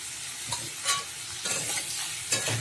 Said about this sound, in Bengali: নুন হলুদ দিয়ে দিলাম, দিয়ে একটু নেড়ে চেড়ে নিচ্ছি